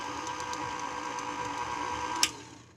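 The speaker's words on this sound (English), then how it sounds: "I'll blend this in until I get a fine crumb." Steady electric mixer or blender whirring as butter is cut into dry devil's food chocolate cake ingredients for a fine crumb, a constant mechanical hum that ends with a sharp click as it shuts off.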